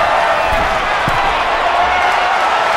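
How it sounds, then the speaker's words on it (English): A dense, steady crowd roar fills the arena in the WWE 2K23 wrestling game during a WrestleMania match between Jeff Hardy and Matt Hardy, with a few faint low thuds underneath. "The sound of this crowd is deafening, and he's asking for more."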